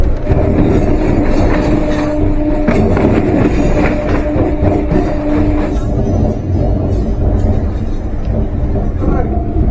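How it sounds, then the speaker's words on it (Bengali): A local train pulls out of Howrah station and runs on the rails, its rumble and rattling wheel noise loud and continuous, with faint voices around it and a brief squeal midway. "আর দেখতে পাচ্ছ আমাদের ট্রেন হাওড়া থেকে ছাড়লো"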